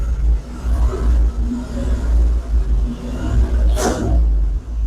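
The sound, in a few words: 1970 Ford F250 dually truck engine revving with sticking throttle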